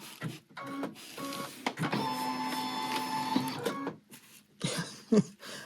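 Embroidery machine stitching a heart-shaped in-the-hoop bag design, a steady close mechanical whirring and clatter that starts and stops in short runs, with a longer sustained stretch in the middle.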